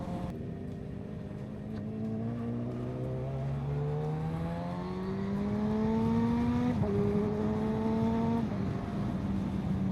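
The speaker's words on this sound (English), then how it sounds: "I don't know if the mic is gonna do the sound of this bike justice. It sounds absolutely awesome." A Suzuki GSX-R 1000 motorcycle engine revs and climbs through rising harmonic sweeps over about ten seconds, steady and fairly loud close to the microphone, with no talking.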